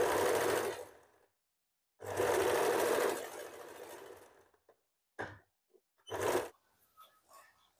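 Up close, a sewing machine stitches a sleeve in short bursts: a one-second run, a longer two-second run that trails off, then a couple of quick stabs of stitching separated by silence.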